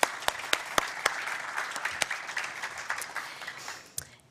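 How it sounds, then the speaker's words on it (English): An audience at a telehealth talk gives a short round of applause, dense clapping with a few sharp individual claps standing out, fading toward the end. "can we just have another round of applause for Dr."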